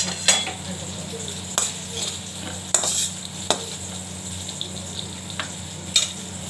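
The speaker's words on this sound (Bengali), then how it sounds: "বেগুন ভাজা হচ্ছে" Slices of eggplant fry in a pan with a steady sizzle, broken by several sharp clinks and scrapes of a utensil stirring or turning them.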